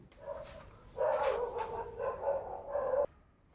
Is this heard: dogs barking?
yes